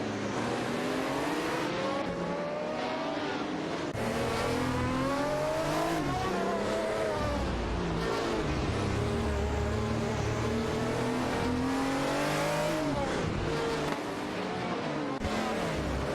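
Race cars roar continuously in a racing video game, an Alfa Romeo T-Bow 33 DT12 dueling a Ferrari 312, with overlapping engine notes rising and falling as they accelerate and shift, loud and close throughout.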